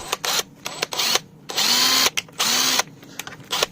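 A Makita cordless impact driver runs in short bursts, its high, close whine switching on and off repeatedly with longer pulls in the middle and quiet gaps between, loud and without speech.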